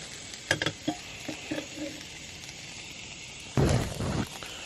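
Chorizo for tacos frying in a pan over an outdoor hammock camp setup, crackling and popping in scattered bursts with a louder surge of sizzle near the end.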